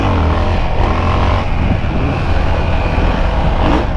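A Yamaha XT 660 motorcycle engine revs hard and continuously during a wheelie, a loud, close, sustained roar with slight pitch shifts and no speech over it.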